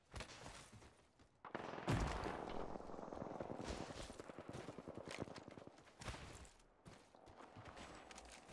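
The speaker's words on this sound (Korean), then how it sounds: "적 사격 중" In the video game Apex Legends, a close fusillade of rapid automatic gunfire comes in bursts, with a heavy blast near the start. Short gaps separate the bursts, and quieter distant shots sit in the background.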